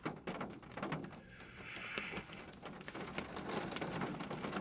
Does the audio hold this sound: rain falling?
yes